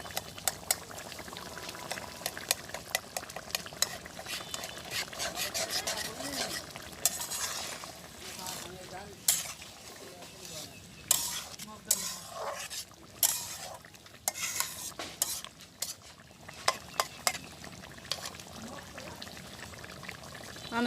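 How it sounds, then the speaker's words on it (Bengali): Ground pepper and cinnamon paste is stirred into koi fish cooking in a pot over a village stove, with soft scraping and clinking of a utensil against the pan amid steady sizzling and bubbling. "তো আমি এখন গোলমরিচ আর দারুচিনি বাটা এই যে এটা মিশিয়ে দিই।"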